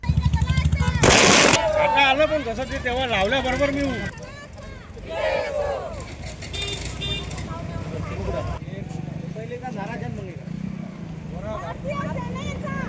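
A sharp firecracker burst cracks loudly near the start at an outdoor street celebration in Akola, followed by a crowd of voices shouting and chanting, with more faint pops underneath.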